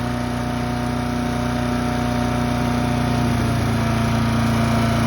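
A Gardenbaut wood chipper's small engine idles with a steady, loud mechanical drone and constant hum, settling slightly lower toward the end as it is run slow to cool.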